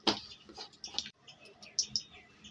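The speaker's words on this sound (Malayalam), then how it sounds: "കടുക് പൊട്ടിക്കണം" Mustard seeds spluttering in hot oil, popping in quick irregular bursts of sharp crackles, close and fairly quiet.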